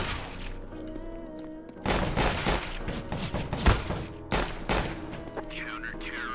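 Gunfire in the video game CS:GO: after a quieter stretch, loud rapid bursts of automatic shots break out, with several separate volleys and sharp single reports close up.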